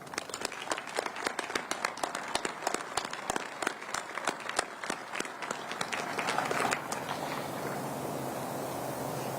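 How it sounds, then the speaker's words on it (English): Applause at a military ceremony in Ramadi honoring Gold Star families: a crowd claps steadily with sharp, dense hand claps that thin into a softer, sustained patter toward the end, moderately distant. "please offer them a round of applause"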